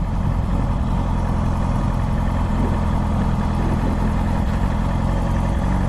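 A motorcycle engine idles steadily with the clutch pulled in and no throttle, a close, constant low rumble that holds even throughout.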